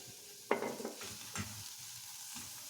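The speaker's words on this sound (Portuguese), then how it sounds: "Eu vou começar a refogar." Onion sautéing in a little olive oil: a soft, faint sizzle with a few stirring clinks and scrapes near the start and middle, no voices.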